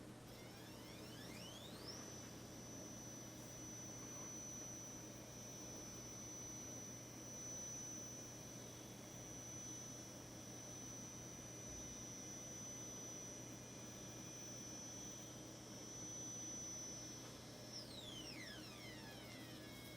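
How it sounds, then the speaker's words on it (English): Motor of a Neewer motorized camera slider whining as it travels: a thin steady high-pitched tone that ramps up, holds for about fifteen seconds, then ramps down, faint over a quiet low hum. "most likely it's going to pick up the whining sound the motor makes"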